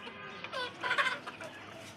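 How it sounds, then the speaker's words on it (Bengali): Young domestic country hens in a backyard garden coop clucking, with several soft overlapping calls rising to a louder burst midway, close by and with no talk. "এই মুরগিগুলো হচ্ছে আমার বাচ্চা মুরগি, বড় হয়েছে"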